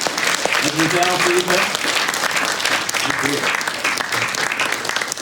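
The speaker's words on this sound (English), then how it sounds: "Thank you. Round of applause." Audience applause at a sonification and astrophysics event at the Harvard & Smithsonian Center for Astrophysics, a dense steady round of clapping filling the room, with a few voices speaking under it.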